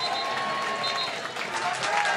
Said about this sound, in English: The cheer and the applause from a very happy Nethermore.